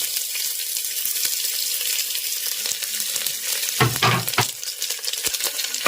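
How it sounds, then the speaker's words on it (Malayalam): Onions sizzle and fry in hot oil with green chili and curry leaves for a Kerala chicken curry, a steady crackling hiss with a louder burst of stirring partway through, close and without talk. "ഇനി നമുക്ക് ഇതിലേക്ക് നമ്മളുടെ സബോള നമുക്കങ്ങ് ചേർത്ത് കൊടുക്കാം കേട്ടോ"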